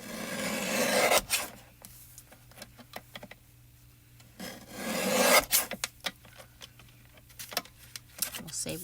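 Paper die-cut pieces, a smile and a hello sentiment, being trimmed down by hand, giving soft rasping cuts and rubs in two longer bursts with light taps and scrapes between, close and moderately quiet.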